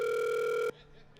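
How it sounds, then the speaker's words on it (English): A phone tone sounds as a steady, loud electronic pitch for most of a second, then cuts off abruptly, leaving near silence. "That's my phone. I can't take that."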